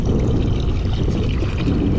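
A pump draws seawater up through a short hose beside the first Penang bridge pier, giving a steady, loud gurgling rush of pouring water with no talk over it.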